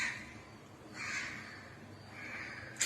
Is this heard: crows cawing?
yes